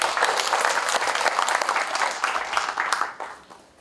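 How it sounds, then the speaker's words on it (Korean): An audience at a Korean history symposium bursts into sustained, loud applause that holds steady and then tapers off toward the end, with no talk over it. "여러분 저 한 시장님께 다시 한번 박수 한번 더 드립니다."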